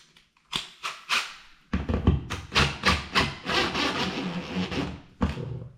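A screw is driven into a bottom fixing in a series of short grinding and rubbing bursts with thuds, close and fairly loud, pausing between turns.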